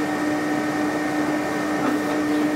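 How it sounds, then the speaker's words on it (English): A ZXP Series 8 card printer feeds in a cleaning card to clean its rollers, a steady close mechanical whir with a sustained motor hum and no pauses. "hit the clean button on the front of the printer so that it may feed in and clean the rollers"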